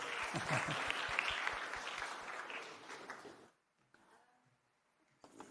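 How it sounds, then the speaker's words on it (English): Audience applause at a conference session on job creation, dense clapping loud at first and tapering off after about three seconds into near quiet, followed by faint handling noise as the microphone is set up for the next speaker. "Please give it a round of applause for Ronette."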